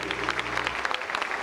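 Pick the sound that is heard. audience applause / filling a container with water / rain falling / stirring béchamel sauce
audience applause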